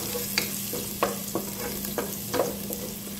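Garlic sautéing in a little oil, a soft sizzle with a low steady hum beneath and several sharp clinks and scrapes of a utensil stirring the pan at uneven intervals.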